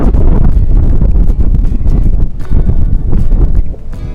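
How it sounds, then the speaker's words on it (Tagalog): Strong typhoon wind at sea off Baler, Aurora, buffeting the microphone in heavy, continuous rumbling gusts, loud and close, with no speech. "so halos bumaloktot to sa lakas ng hangin"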